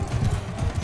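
Horse galloping in Mount & Blade 2 Bannerlord, a steady rumbling run of low hoofbeats close by with a loose repeating rhythm through the short moment, nothing else standing out over it.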